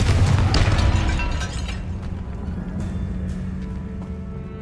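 A Confringo spell explosion in Hogwarts Legacy: one loud booming blast that rolls off into a lingering rumble, with a voice heard alongside it.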